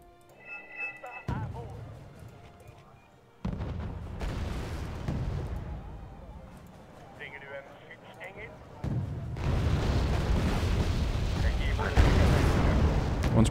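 Gunfire and explosions against tanks in the real-time strategy game Wargame: AirLand Battle, with repeated booms and crackling bursts building into a dense, sustained barrage, mixed with voices talking throughout.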